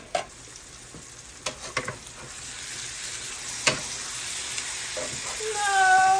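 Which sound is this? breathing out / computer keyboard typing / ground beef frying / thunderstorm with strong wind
ground beef frying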